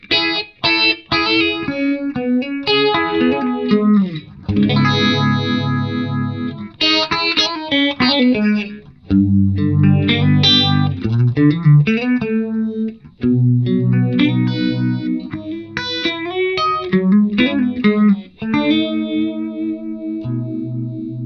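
Electric guitar through a Marshall 1959 Modified amp head on its clean channel 1, bright cap off, playing chords and melodic runs with a shimmering chorus-like tone, strumming in phrases with brief pauses.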